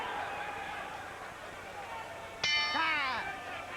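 A boxing ring bell rings once to end round four of the Alexander vs Urango fight, a sharp clang with a ringing decay. Crowd murmur and an announcer's voice sit in the background.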